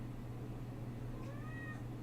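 A single plaintive cat meow rises and falls in the second half, heard close over a constant low hum.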